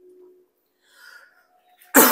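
A single sharp cough bursts out at the end, following a few faint, quiet sounds.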